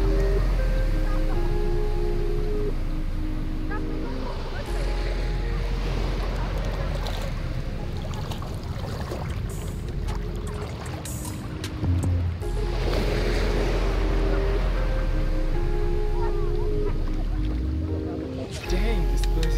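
Ocean waves surge and wash ashore at a hidden beach, a continuous loud roaring surf with wind, while people talk over it.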